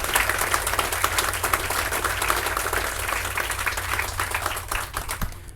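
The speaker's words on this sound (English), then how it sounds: "Let's give them all a great round of applause." An outdoor crowd at a DeBary Main Street groundbreaking ceremony gives sustained, dense applause that holds steady for several seconds before tapering slightly.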